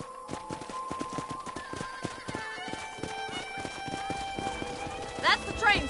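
Horse hooves clip-clop steadily beside a corral in the Western video game Red Dead Redemption, running under ongoing speech and game music, with a brief whinny near the end.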